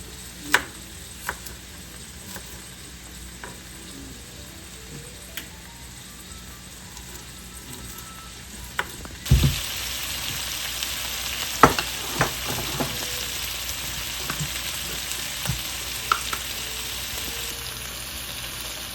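Garlic frying in a pan while a Persian tomato omelet is made, a soft steady sizzle that jumps louder halfway through, with scattered light clicks and stirring.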